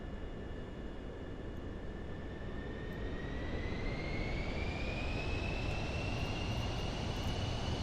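A PC-24 jet flying in Microsoft Flight Simulator 2024 gives a steady, fairly quiet engine drone with a high turbine whine that slowly rises in pitch over the roar.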